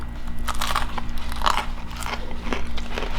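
Loud, close crunches of someone biting into crispy fried chicken, a few sharp crackly bites followed by chewing.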